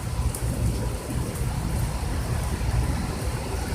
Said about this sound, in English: It's raining in Denver, Colorado.